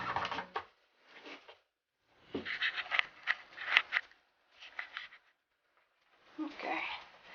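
A knife scraping and cutting into a hard coconut shell by hand, giving bursts of rough, gritty scraping strokes separated by short pauses, close and moderately quiet.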